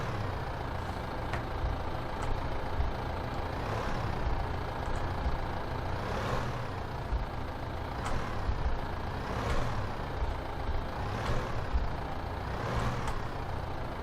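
A truck backing up with a trailer in Farming Simulator 15: a steady engine drone runs throughout, punctuated by regular, evenly spaced reversing beeps or pulses roughly every second and a half, with no voices.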